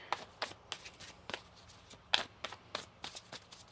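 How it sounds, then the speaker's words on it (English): Quick, crisp riffles of tarot cards being shuffled, a dozen or so short papery bursts in an uneven rhythm, close and clear with no talking. "One more shuffle."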